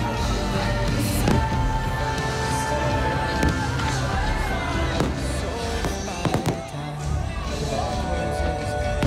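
Fireworks over a crowd, heard from people stuck on an amusement ride: loud, continuous crackling and popping bursts with sharp bangs, amid crowd noise and nearby talking.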